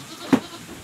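A newly acquired Anglo-Nubian goat gives a single short bleat at a pen, close and brief over low background noise.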